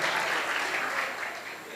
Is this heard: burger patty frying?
no